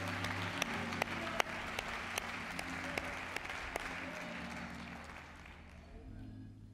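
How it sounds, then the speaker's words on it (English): Church congregation applauding a combined choir from Jackson at a university service, soft distant clapping with a few sharper individual claps standing out, fading away toward the end. "And let's give them a hand clap of praise."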